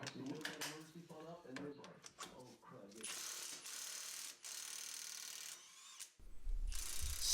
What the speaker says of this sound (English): Still love that Milwaukee impact.